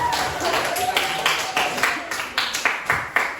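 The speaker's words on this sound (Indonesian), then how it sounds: "Kita beri tepuk tangan untuk kelompok." Scattered hand claps from a small group of students in a classroom, uneven and fairly close, with voices mixed in.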